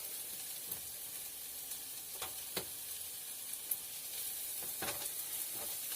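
Onions frying in a pan for a homemade tomato sauce, a steady soft sizzle with a few sharp scrapes and stirring taps, moderately close and without voices.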